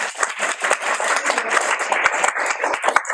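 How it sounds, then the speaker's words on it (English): An audience applauds a presenter at a family talk on bullying, with a fairly loud, continuous wash of clapping and a few sharper, closer hand claps standing out. "Can we give Monique a round of applause?"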